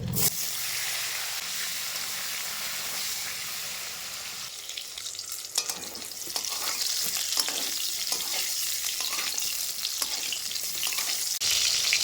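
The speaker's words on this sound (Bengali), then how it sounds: "কড়াইতে তেল রয়েছে, তেলের মধ্যে দিয়ে দিচ্ছি কেটে রাখা পটল।" Cut pointed gourd (potol) drops into hot oil in a wok, a loud burst of sizzling that settles into a steady crackling fry with occasional stirring scrapes.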